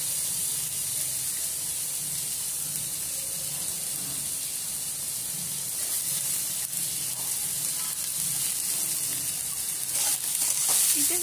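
Finely chopped medium-small onion frying in hot oil in a pan, giving a steady, even sizzle and hiss that runs unbroken through the whole stretch at close range.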